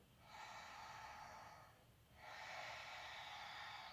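Two slow, soft Ujjayi yoga breaths, each a long hissing oceanic rush through a narrowed throat, the second slightly louder, heard close and quiet with no talking.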